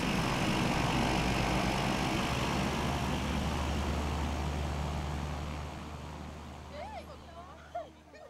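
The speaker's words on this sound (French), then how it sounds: "Ce que tu aimes le plus de cet avion, c'est son bruit de moteur à turbine, surtout quand il fait l'inversion de poussée à l'atterrissage" Turboprop engine of a Caravan airplane roaring loud and steady through a landing with reverse thrust, a broad sustained rumble that fades toward the end as faint voices rise in the background.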